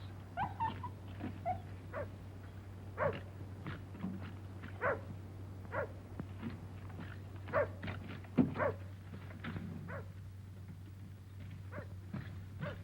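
A dog barks outside at a distance, repeated short barks and some whimpers at irregular intervals, fairly faint over a steady low hum, with no talking.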